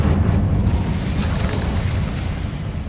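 An Incendio fire spell goes off in Hogwarts Legacy as a loud, sustained roaring whoosh of flame with deep rumbling, steady for several seconds and heard alone.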